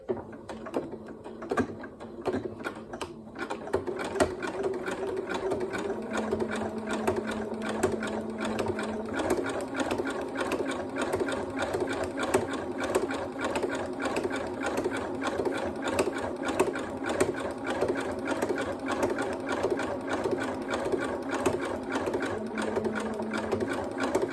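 A sewing machine stitching fabric for a cushion, a fast, steady mechanical whir running continuously and close up, with no talking.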